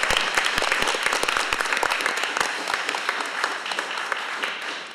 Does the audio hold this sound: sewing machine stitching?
no